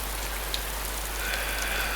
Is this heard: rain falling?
yes